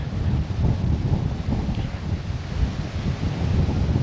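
Strong gusts buffet a microphone on a blustery day in a park, a steady low roar and rumble that swells and dips continuously without letting up, with no talking.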